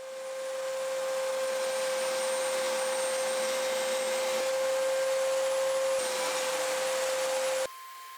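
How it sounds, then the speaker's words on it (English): Table saw rips walnut and red oak boards into strips, a loud steady whine running about seven seconds before dropping to a lower idle hum. "then cut those boards into thinner strips using my table saw"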